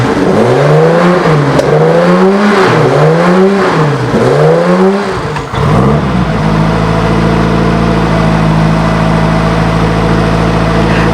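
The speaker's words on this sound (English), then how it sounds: "This is a Maserati Tipo 60, one of the last front-engine sports racing cars" Maserati Tipo 60 Birdcage, a front-engine sports racing car, engine revving in repeated rising and falling surges, then settling into a loud, steady, close idle.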